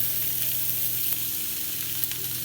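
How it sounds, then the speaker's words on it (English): Bacon for double bacon burgers sizzles steadily in a hot pan, a constant crackling hiss with faint pops, close and alone. "now I'm going to add on the bacon"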